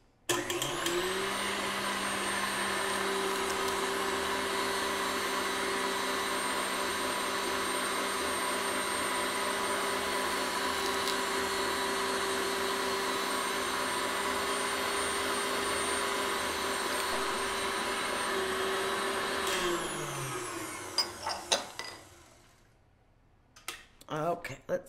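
Electric mixer whipping egg whites with sugar on high speed, a steady loud motor whine with a constant hum running for about twenty seconds before spinning down and stopping near the end.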